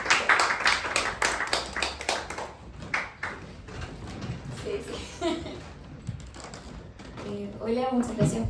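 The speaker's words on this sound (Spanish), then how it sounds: "Un aplauso, pues, por favor." Applause from a seated audience at a literary event in a hotel, dense clapping at first that thins out, followed by a lone voice starting to speak near the end.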